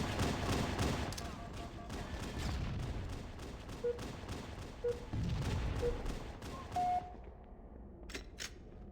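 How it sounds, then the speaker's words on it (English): Steady gunfire from the Halo video game on PC, a dense, continuous rattle of shots through most of the stretch before cutting off near the end. "Keep shooting."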